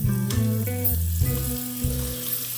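Masala roasting in oil for a restaurant-style paneer masala gives a steady frying sizzle. It sits beneath louder tonal background music that changes pitch in steps.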